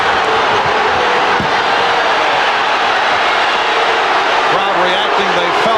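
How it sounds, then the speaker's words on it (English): A basketball arena crowd in Phoenix during a Bulls–Suns game roars loudly and continuously, a dense wash of cheering and shouting with a broadcast commentator's voice running underneath. "Crowd reacting."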